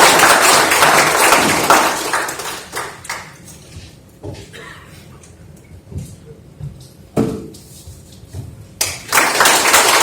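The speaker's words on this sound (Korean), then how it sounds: "큰 박수 한번 주시기 바랍니다." Audience applause at a science foundation event greeting an elderly former university president, a loud burst of clapping at the start that fades into scattered claps and quiet room noise, then a fresh burst near the end.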